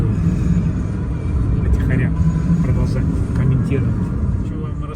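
A car drives along a road, a steady low engine and road rumble running throughout under talk, moderately loud and continuous.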